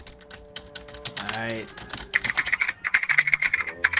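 Rapid clicking keystrokes on a computer keyboard, near and crisp, coming in quick irregular bursts after a short spoken word and some tonal background sound.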